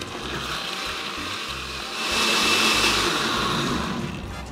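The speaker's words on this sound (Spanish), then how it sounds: "Ahora vamos a licuar" A kitchen blender whirs steadily as it blends beef consommé with tomato sauce or purée, the motor pitch rising and swelling louder midway before easing slightly.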